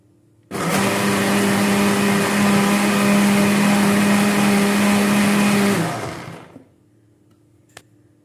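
A mixer grinder blends onion and garlic with a little water into a paste, a loud close motor whine that starts abruptly, runs steadily for about five seconds, then winds down and stops.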